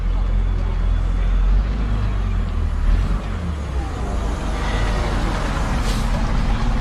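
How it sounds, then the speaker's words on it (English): A Metro Bus Mark II, a preserved vintage bus at a transport museum running day, passes nearby with a loud, steady engine drone and rumble. "My favourite bus is coming through. It's a Metro Bus Mark II."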